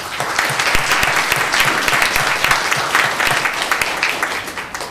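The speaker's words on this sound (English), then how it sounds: "let's applaud Michaela." Audience applause fills a town council meeting chamber, dense and steady clapping from many people sustained at close, loud level for several seconds.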